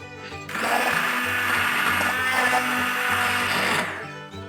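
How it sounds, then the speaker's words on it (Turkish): A kitchen blender purees vegetable soup for baby food, a loud steady whirring motor that starts abruptly, runs continuously for a few seconds, then cuts off, close by with no talk. "Şimdi çorbamı karıştırıcıdan geçireceğim."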